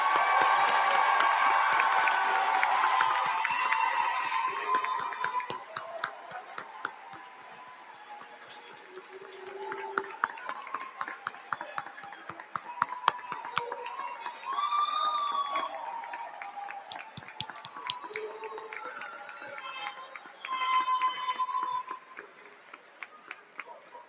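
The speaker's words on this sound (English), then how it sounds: "Let's all give a hearty round of applause for all these distinguished graduates." At a college commencement ceremony, an indoor audience gives a round of applause for the graduates. Scattered clapping and crowd murmur run through, fairly faint, with brief swells and a few whoops.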